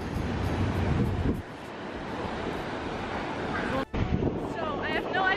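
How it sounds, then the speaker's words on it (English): Strong wind gusts blowing across a beach in Seminyak, Bali, as a steady, close, broadband roar buffeting the microphone, with a brief dropout near the end. "I have no idea if you can hear me because of the wind"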